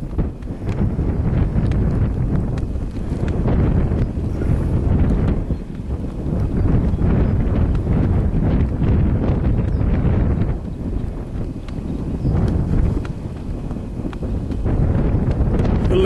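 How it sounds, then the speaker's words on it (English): Steady, loud wind gusting across the microphone on an exposed coastal bank top near lagoons, a continuous low rumbling buffet with brief lulls and no talk. "We're stood on a bank top, so it is a bit breezy"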